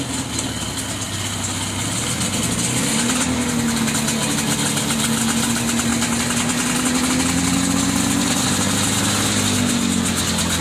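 Warmed-up vintage snowmobile engine idling at an outdoor vintage snowmobile show in Newport Center, Vermont, a steady close humming putter with slight knocking vibration, continuous and fairly loud throughout.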